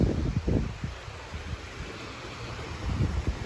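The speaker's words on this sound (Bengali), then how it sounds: "হাওয়াও দিচ্ছে সুন্দর।" A breeze blows softly and continuously outdoors by the Ganga river, with low gusty rumbles against the microphone and faint rustling.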